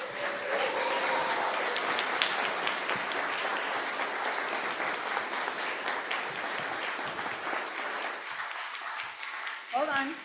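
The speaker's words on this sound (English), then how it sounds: "Let's give them a round of applause" Sustained applause from a crowd, steady clapping that fades toward the end with a few voices audible beneath it.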